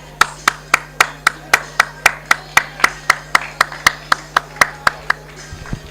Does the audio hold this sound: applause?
yes